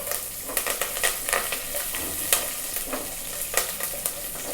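Curry leaves crackle and sizzle in hot oil for horse gram soup, a close, busy spitting with frequent sharp pops and stirring scrapes, and no voices.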